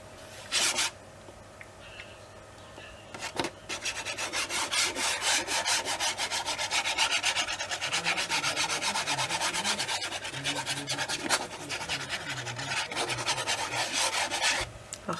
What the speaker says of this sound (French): En insistant bien sur les bords, hein, de façon à ce que ça colle bien.